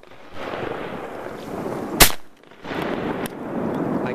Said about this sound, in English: your gun's loud